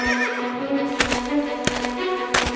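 A horse neighs in a Kyrgyz animated mountain fairy tale, a wavering whinny at the start followed by a few sharp, knock-like sounds, with no speech.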